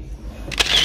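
A camera shutter clicks once for a selfie at a chicken biryani mukbang, a brief close snap over low room noise.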